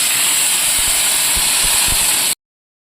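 Water hits hot chickpeas and potatoes frying in a pan, giving a loud, continuous steamy hiss that holds for about two seconds and then cuts off abruptly.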